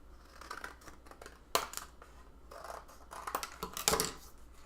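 Scissors snip through paper to trim it to size, a series of soft, close crisp cuts in uneven bursts with a couple of sharper snips, quiet and without voices.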